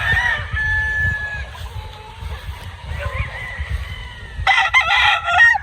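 Chickens and roosters on a Filipino farm, with clucking and crowing calls rising over a low rumble of background noise, then a louder burst of several birds calling together near the end.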